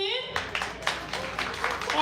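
A poetry event audience claps with several spaced bursts of hand clapping, while voices talk and cheer over them.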